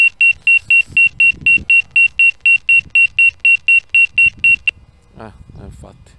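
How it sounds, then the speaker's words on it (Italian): A drone controller app on a phone beeps in an even series of about fifteen sharp, loud electronic tones, then stops, with faint handling and background noise continuing after. "Infatti è il beep dell'app questo, niente di che."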